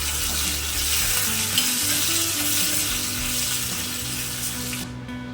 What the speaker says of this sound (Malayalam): അര ടീസ്പൂൺ പെപ്പർ പൗഡറും കൊടുത്ത് നല്ലതുപോലെ ഒന്ന് മൂപ്പിച്ചതിന് ശേഷം കറിയിലേക്ക് ഒഴിച്ചു കൊടുക്കാം